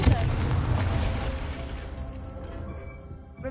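A Confringo blasting spell bursts in the Hogwarts Legacy video game, a loud booming explosion with a heavy low rumble that slowly decays over a few seconds.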